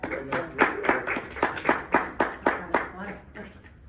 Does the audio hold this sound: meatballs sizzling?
no